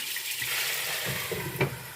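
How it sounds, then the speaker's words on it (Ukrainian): Meat laid into a hot frying pan for stewed potatoes, giving a steady soft sizzle with faint crackles, close but fairly quiet. "І м'ясо, як кладемо на сковорідку, бачите, воно одразу починає смажитись, воно не мокре."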